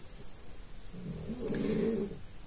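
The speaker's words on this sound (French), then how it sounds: "Avec Ona qui ronfle, c'est génial" A pet snoring nearby in a quiet room during a knitting session, a soft low rasping snore that swells over the second half, alone with no talk.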